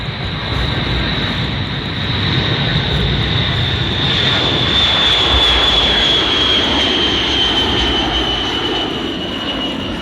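A B-52 Stratofortress bomber roars down the runway on takeoff, a loud sustained jet rumble with a steady high whine over heavy low-frequency roar, building slightly and holding for about ten seconds with no voices.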